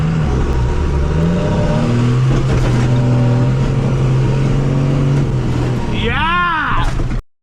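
The engine of a 1975 Dodge D600 truck roars and revs hard as it lifts into a wheelie, loud and close, with its pitch rising and falling before a sharp sweep near the end.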